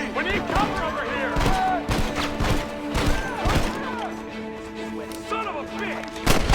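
Repeated gunshots crack sharply and irregularly through a Red Dead Redemption shootout, with several bursts in quick succession under steady game music and overlapping character shouting.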